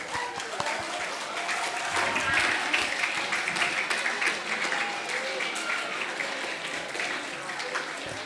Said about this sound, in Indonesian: Tepuk tangan untuk Mas Galih ya.